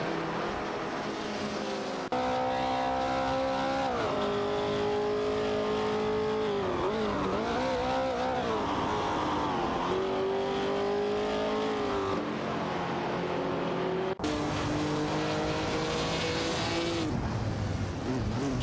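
Race cars in an AI racing video game howl with continuous revving engines that sweep up and down in pitch as they jostle and overtake, with a sudden sharp shift near the end.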